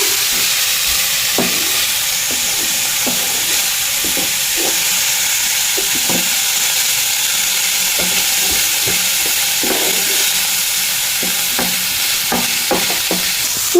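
Chicken pieces sizzle steadily in a hot pan while a spoon scrapes and clacks against the metal in irregular stirring strokes, a loud continuous frying hiss with no talking.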